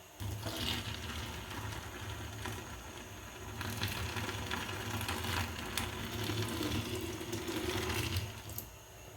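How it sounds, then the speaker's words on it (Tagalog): Boiled hot water pours into a clogged kitchen sink, making a steady, full rush of splashing and gurgling water that runs continuously and close by, with no talk over it. "Tapos buhusan pa natin ng mainit na tubig."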